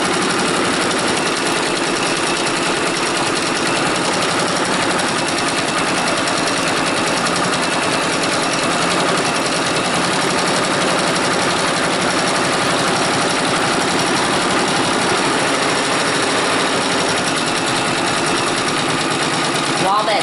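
A Brother Persona PRS 100 embroidery machine stitches a monogram onto boots held in a fast frame, giving a steady, busy mechanical whir that runs without a break and up close, with no talk over it.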